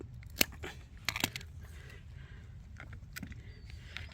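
Sharp snips of pruning shears cutting through hybrid willow stems for propagation, a few crisp close clicks and crunches spaced irregularly over quiet outdoor background.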